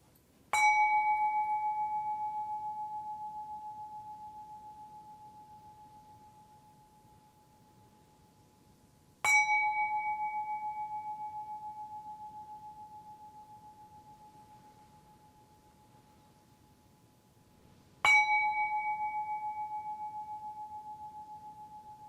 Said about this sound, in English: listen the sound of the gong and see that how long you can hear the sound of the gong